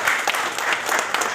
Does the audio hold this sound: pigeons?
no